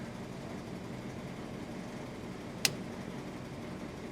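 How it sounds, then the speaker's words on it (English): A vintage flat-fender Willys Jeep idles with a steady, low, even rumble throughout, and one sharp click stands out briefly near the end; no one speaks. "the Jeep's idling nicely"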